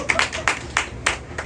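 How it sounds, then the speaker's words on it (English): A few audience members clap in loose, uneven bursts at a roast battle comedy show, several close hand strikes over barely a second and a half. "You guys can clap for that if you want to."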